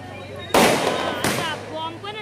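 Firecrackers go off at a Ganesh immersion celebration: two loud, sharp crackling bursts, the first longer, with festive background noise around them.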